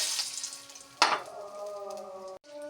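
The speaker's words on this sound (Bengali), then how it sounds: "মাছ ভাজার তেলেই দিয়ে দিচ্ছি শুকনো মরিচ" Dry red chillies are dropped into hot oil left over from frying fish, giving a sudden loud sizzling burst that settles into a quieter crackle under a steady kitchen hum.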